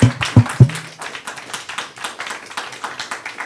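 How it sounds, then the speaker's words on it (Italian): An audience applauds the speaker at an Italian book presentation on AI in clinical practice. A few sharp, close claps lead into softer, continuous clapping from the room. "Facciamo un bel applauso"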